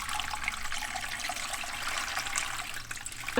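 Water runs into the bottom of a cooking pot in a continuous, close splashing trickle that holds steady for several seconds, with no talking.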